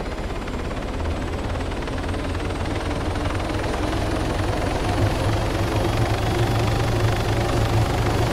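Military helicopter lifting off in ARMA 3, a loud steady rotor thump and turbine whine filling the whole stretch at close range without letup.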